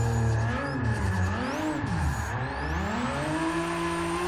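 Nissan R32 Skyline GT-R spinning drift donuts in Forza 6, with a loud continuous tire squeal that rises and falls in pitch over a sustained revving engine, close and unbroken.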